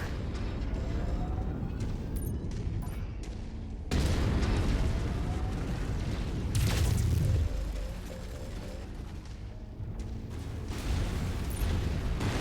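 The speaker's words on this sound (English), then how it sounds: "They've destroyed the base generator." A base generator blows up in MechWarrior 5, a sustained roaring rumble broken by heavy booming bursts that swell and fade, with mechanical noise underneath and no talking.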